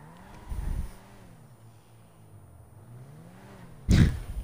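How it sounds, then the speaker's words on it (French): A BMW car engine in Forza Horizon 4 revs with a low droning tone that rises and falls, punctuated by two short, heavy bursts of engine noise, one early and a louder one near the end. "C'est un gros moteur, la BMW ça pousse fort"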